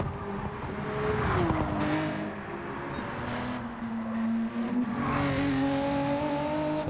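Race cars in the Gran Turismo 7 game, Pavlova Cup event, hold a steady engine drone with shifting pitch and occasional revving surges, loud and continuous throughout with no talk.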